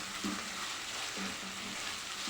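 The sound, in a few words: sautéing onions with minced garlic in a pot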